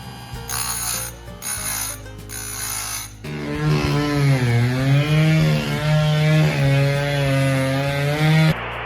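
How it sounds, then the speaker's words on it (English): Chainsaws cut wood outdoors, beginning with choppy bursts of engine and ratcheting noise, then a sustained close, loud buzzing engine that rises and falls in pitch as it works, with no talk. "Look at the chainsaws going outside."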